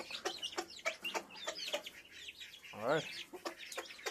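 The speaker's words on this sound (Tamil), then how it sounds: "நல்லா சாப்பிடும் கோழிங்க." Hens clucking and chirping in short bursts nearby, with a louder squawk midway, some faint background voices.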